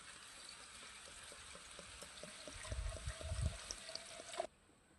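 A glass of water tipped into a mixer jar in a home kitchen, a soft trickling pour with small splashes, brief and close, ending abruptly with a light clink.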